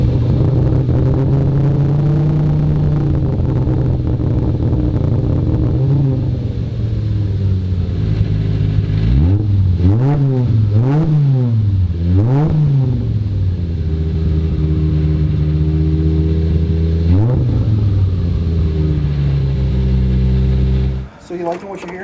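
Tuned car engine with anti-lag engaged, loping at idle with a rough, uneven rhythm and several sharp revs rising and falling in the middle, loud and close throughout.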